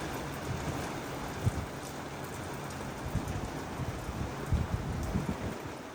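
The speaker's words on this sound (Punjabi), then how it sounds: "ਬਾਰਿਸ਼ ਨਾ ਹੁਣ ਅੰਦਰ ਆਉਣ ਲੱਗ ਗਈ ਆ" Storm rain with strong wind falls steadily in a continuous wash of noise, with occasional heavier drops or knocks nearby.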